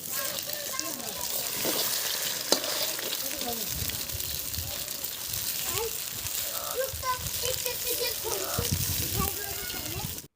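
Pakoras fry in a little oil in a kadhai with a continuous crackling sizzle, while voices and children's chatter carry on in the background throughout.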